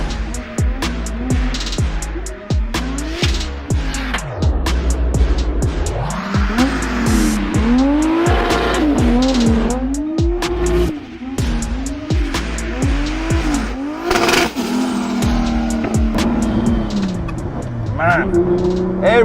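A drift car's wheels spin and its tires squeal continuously as the engine revs up and down through every gear, loud and close, with repeated rising and falling whines throughout.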